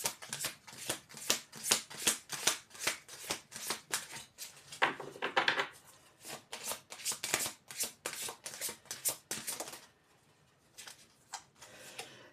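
A deck of cards is shuffled again and again in quick riffling bursts, a rapid fluttering patter close up that stops near the end, leaving near silence.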